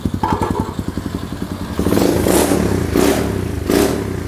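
A small HSX 110 manual-clutch mini trail motorcycle engine idles with a rapid putter, then revs up in several loud surges, close by with no talking.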